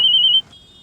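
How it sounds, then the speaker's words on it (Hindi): A phone rings with a single loud, steady electronic tone that cuts off after about half a second, leaving a fainter tone behind with no voices. "ये फोन आ रहा है"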